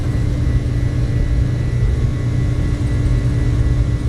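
Airliner jet engines spooling at takeoff thrust in Microsoft Flight Simulator on a cargo run from Surabaya, a loud, steady roar with a strong low rumble that holds even and unbroken throughout, no voices over it.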